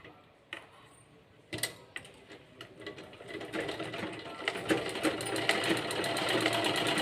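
Sewing machine stitching a frock hem: a few isolated clicks and clunks give way to a fast, steady rattling run that grows louder and continuous, close by.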